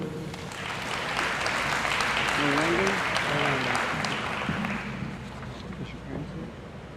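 Audience applause at a high school senior honors night, a broad crowd clapping steadily for several seconds before tapering off, with a voice speaking over it midway.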